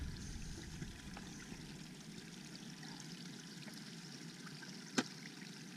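Water trickles and splashes steadily from a stream on the Appalachian Trail while being collected into a bottle, a continuous quiet flow with one sharp brief clink or splash near the end, no voices.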